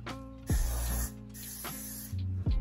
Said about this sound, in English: you're just spraying the curls to keep them in place.